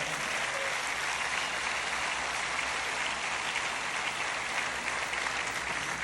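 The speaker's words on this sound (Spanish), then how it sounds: "dele un aplauso al Señor Jesucristo" A church congregation applauds in a dense, continuous roar of clapping that holds steady and loud throughout, with no voices standing out.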